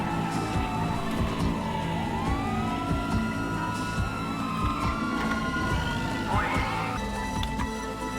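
Police sirens wail and sweep up and down during a chase in GTA 5 Online, several overlapping at once over a dense bed of engine and traffic noise, loud and continuous throughout.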